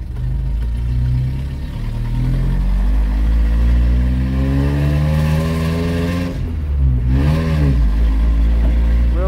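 A Nissan D21 Hardbody truck engine on its first test drive, loud and close from inside the cab, with rising and falling revs through gear changes and one pause before it pulls again.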